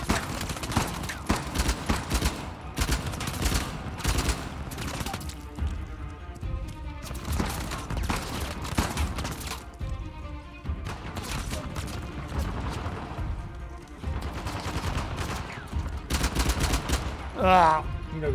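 Sustained gunfire from Uncharted: The Lost Legacy on PS4 Pro, with rapid automatic bursts and single shots rattling through the whole stretch, loud and close, broken by brief lulls and a few crashes.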